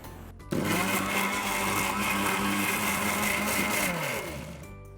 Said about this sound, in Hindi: अब ये गूदा जो है इसे हम पीस लेंगे